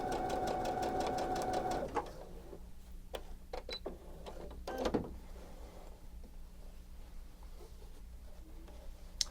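A sewing machine stitches binding onto a quilt in a rapid, steady burst lasting about two seconds, then stops, leaving scattered clicks, taps and fabric handling sounds nearby.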